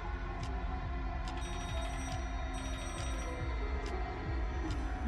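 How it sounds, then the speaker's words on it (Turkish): A faint electronic ringing tone repeats at regular intervals over a steady low background hum, like a distant telephone ringing. "Telefon çalıyor gibi duyuyor."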